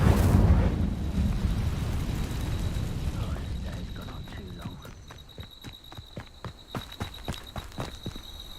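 Incendio fire spell in Hogwarts Legacy, a loud burst of fiery whoosh and rumble at the start that fades into crackling, with footsteps clopping afterward.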